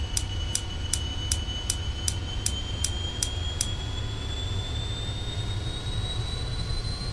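A Beechcraft King Air C90 turboprop engine spools up toward low idle, its steady whine climbing slowly in pitch over a deep rumble. Sharp, evenly spaced ticks repeat through the first half, and no one speaks.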